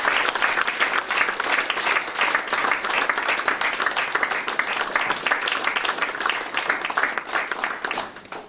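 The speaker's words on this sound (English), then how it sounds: "Can you give him a big round of applause?" An audience applauds after a session, sustained dense clapping from many hands filling the room at a steady level before easing off at the end.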